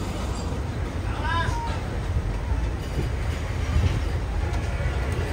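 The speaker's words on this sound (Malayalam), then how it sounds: "ഒരു ഡീസൽ ലോക്കോമോട്ടീവ് ഇതാ." A diesel locomotive at Hyderabad Deccan Nampally railway station gives a steady, close, low rumble, with a brief metallic squeal rising early on and background voices throughout.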